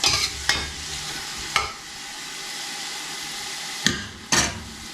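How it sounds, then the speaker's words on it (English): Chopped leeks sauté in olive oil in a pan, a steady sizzle running throughout, punctuated by several sharp clanks of a utensil stirring and scraping against the pan. "I'm going to saute that for a little bit. Oh man. Olive oil, leeks, can't go wrong."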